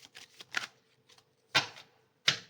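Tarot cards are drawn and slid from a deck, producing a handful of crisp, close papery flicks and snaps in irregular bursts separated by short pauses.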